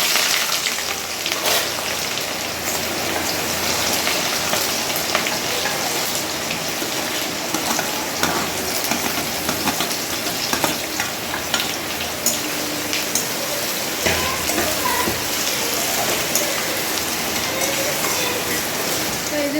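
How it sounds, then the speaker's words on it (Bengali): Chopped onions sizzle and crackle steadily in a pan of hot oil and melted sugar, a dense continuous frying hiss heard up close for the whole stretch. "পেঁয়াজটা একদম লাল লাল করে ভাজা হয়ে গেছে দেখতেই পাচ্ছ এখন"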